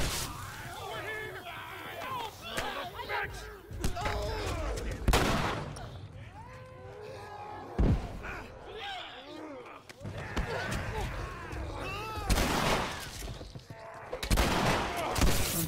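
Gunfire rings out in The Last of Us Remastered, with sharp shots and bursts scattered over a busy game soundtrack and other effects, and a person talking now and then over the action.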